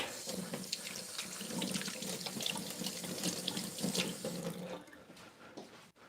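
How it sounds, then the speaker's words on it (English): Tap water runs steadily into a sink while hands are washed beneath it, a continuous close splashing that stays fairly even for about five seconds and then tapers off near the end. "I'm just going to wash my hands."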